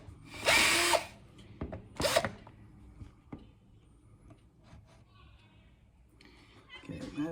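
A power drill whirs in two short loud bursts, drilling holes for hatch gas struts on a 1984 Chris Craft Catalina 381 boat, with quieter clicks and handling noises between and a brief final burst.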